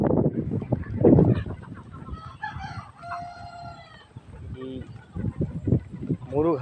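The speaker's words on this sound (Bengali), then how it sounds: "এই দেখেন মুরগি আছে অনেক" Chickens and a rooster on a rural farm with mango trees: a rooster crows mid-clip and hens cluck nearby, under someone talking close by.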